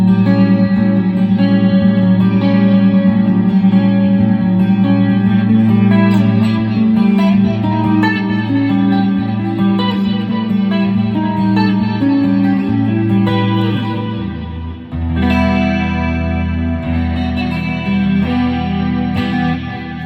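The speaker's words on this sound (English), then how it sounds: "Got this TC Electronic stereo chorus flanger pedal, and this gives me a really thick sound here" Clean electric guitar played through a 1960s Fender Showman tube amp and a TC Electronic stereo chorus flanger pedal, a rich, shimmering modulated tone with sustained chords and notes, loud and continuous with no talking.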